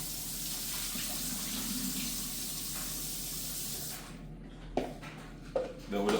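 Steady running tap water splashes over goat meat being rinsed of seasoning for about four seconds, then cuts off, followed by a few brief clunks and handling noises.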